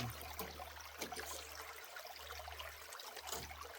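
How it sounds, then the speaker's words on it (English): Water trickles and dribbles slowly out of a gold prospecting pan in a faint, continuous outdoor wash, with a few small splashes and no talking. "Let the water kind of slowly drain out so it's not flushing our gold out."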